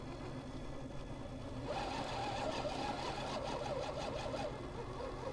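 RC rock crawler trucks grinding over rocks, a steady whirring electric motor and gear drone that strengthens midway, close and continuous with no talking.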